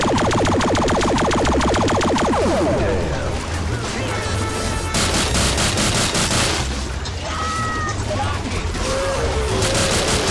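Rapid gunfire from a Gatling gun in a Star Wars–themed Left 4 Dead game mod, loud and continuous with crashing impacts, under game noise and people talking.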